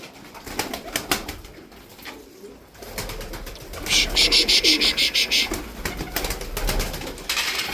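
White pigeons coo softly and repeatedly amid background chatter at a bird sale, with a brief burst of rapid high chirping partway through.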